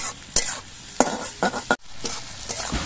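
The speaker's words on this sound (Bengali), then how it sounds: "পেঁয়াজগুলো ভাজার সময় আমি পরিমাণ মতো নুন দিয়ে দিচ্ছি।" Onions frying with salt in a pan, for a muri ghonto dish, give off a steady sizzle broken by several scraping stirs of a spatula, close up and with no talking.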